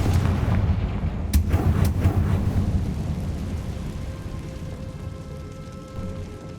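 Confringo blasting spell from Hogwarts Legacy going off: loud booming, crackling explosive bursts with sharp impacts early on, then a rumbling, rain-like roar that tails off without any speech.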